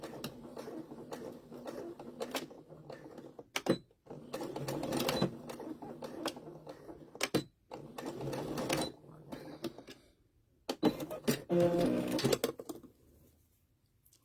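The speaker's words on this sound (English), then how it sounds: "And sew back and forth, just like we just did." A sewing machine sews back and forth over elastic on a baby bib, giving close, moderately loud runs of stitching broken by brief stops, clicks and quiet gaps, and ending in a final burst.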